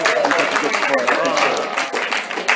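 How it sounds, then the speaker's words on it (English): Audience applause at a talk, a short burst of crowd clapping that holds steady for a couple of seconds, fairly close and loud, with no talking over it. "Round of applause."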